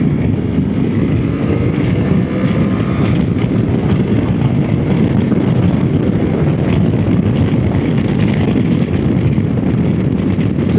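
Suzuki V-Strom 800 RE motorcycle cruising at motorway speed, a steady, loud wash of engine drone and roaring wind buffeting with no letup throughout.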